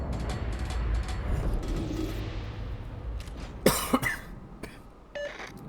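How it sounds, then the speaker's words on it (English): A couple of short coughs break through near the end, close to the mic, after a stretch of muffled background noise. "Got a little bit of a cough"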